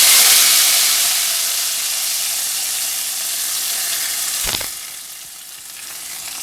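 Loud, steady sizzling hiss of hot oil tempering with spices poured into Punjabi kadhi curry, fading slightly, with a brief clatter partway through.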